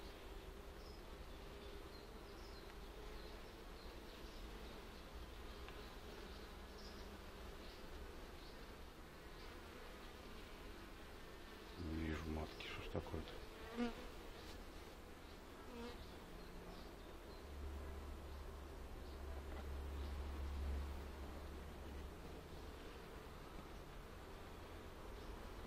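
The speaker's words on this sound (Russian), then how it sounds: "Пчелка вся молодая вон." Honey bees hum densely at an open hive during an inspection of splits being checked for queen acceptance, a soft continuous buzz with a few closer passes in the middle.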